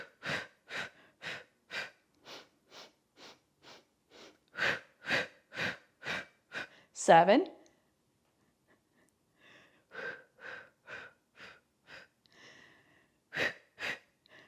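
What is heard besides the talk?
heavy breathing during reformer Pilates hundred exercise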